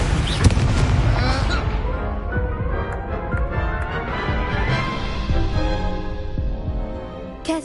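Confringo fire spell blasts in Hogwarts Legacy, a dense run of booming impacts and crackling fiery bursts over a continuous loud roar, ending with a final sharp hit.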